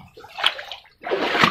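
Flood water from heavy rain in Hyderabad pours and sloshes into a house, a steady rushing splash that fades briefly and then surges back louder and close.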